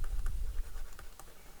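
Pen or pencil scratching across paper while notes are handwritten, a quick run of short, close strokes with irregular rhythm over a low background rumble and no talking.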